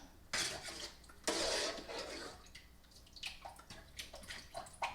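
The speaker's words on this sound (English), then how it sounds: "just kind of stir it so that the flour and the liquid, so that it all just mixes up nicely" Chicken broth and flour stirred together in a pot for white chicken chili: close liquid sloshing and swirling with a few soft clinks of the utensil, heard alone without speech.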